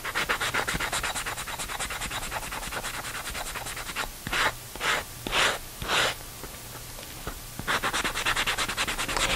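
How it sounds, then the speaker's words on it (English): Sandpaper rubs over the painted rim of a clay pot in close, steady scratching strokes, first a continuous run, then several separate slower strokes, then fast scrubbing again, with no talking. "You can sand a little or a lot."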